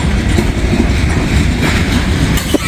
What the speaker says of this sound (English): There is an intermodal coming up the line.